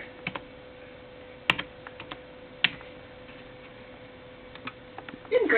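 Scattered keystrokes on a computer keyboard while entering a code during Webkinz online pet adoption, a few isolated taps then a quicker cluster at the end, close and fairly quiet against a low steady hum.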